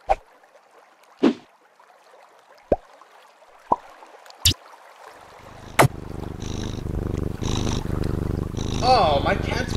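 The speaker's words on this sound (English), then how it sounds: "Oh, my cat's purring." A few sharp clicks and taps, then a steady, rumbling cat purr rises midway and continues close and fairly loud to the end.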